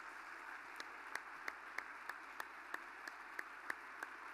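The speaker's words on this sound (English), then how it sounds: "put a huge round of applause for the whole of Trace 3" An audience claps in applause, a steady wash of many hands with a few sharper individual claps poking through at a regular pace, heard from some distance and fairly soft.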